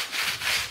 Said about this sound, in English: Now I can take my 220 sanding sponge from Dixie Belle.